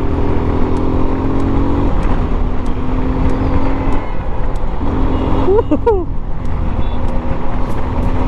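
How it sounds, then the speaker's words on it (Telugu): Riding a motorbike through traffic in Hyderabad, steady engine drone with rising and falling revs, surrounding vehicles and a brief horn-like squeal near the end, loud and close, with talk over it. "చాలా రోజుల తర్వాత బండి నడుపుతున్నా."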